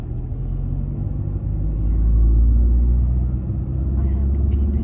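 A car engine gives a steady low rumble while the car moves off and stops during a driving lesson. It is loud and constant throughout, with quiet talk over it.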